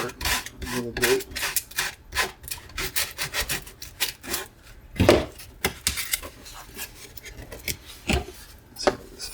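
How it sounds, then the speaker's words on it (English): Hand tool scraping out the bottom of a Techpod foam wing during assembly: continuous rough rubbing and rasping strokes in an irregular rhythm, close and moderately loud, with no talk. "Use this to scrape out the bottom part a little bit."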